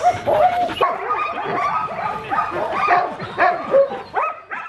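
Sled dogs bark, yip and whimper in an excited, overlapping chorus while being hitched to a gang line before a run in Alaska, loud and close throughout with bursts of higher yelps.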